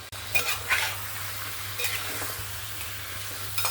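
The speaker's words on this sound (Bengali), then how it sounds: "চিকেনটা এখানে ভালো করে নাড়াচাড়া করে নিয়েছি" Chicken fries in a pan while being stirred, with a soft steady sizzle and occasional scraping and clinking of a utensil against the pan, quiet and close with no talk.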